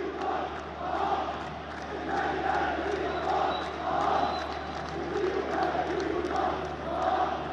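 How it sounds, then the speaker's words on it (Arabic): Al Ahly football fans chant in a stadium during an Egyptian league derby against Zamalek, a loud rhythmic crowd chant rising and falling in repeated waves that fill the whole stretch. "نستمع لهتافات جمهور النادي الأهلي المتقدم بهدف"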